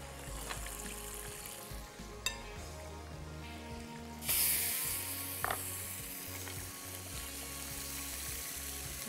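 Chicken laid onto a very hot grill pan, a steady sizzle with a sharper burst of frying partway through, mixed with clicks and low background hum, no talking.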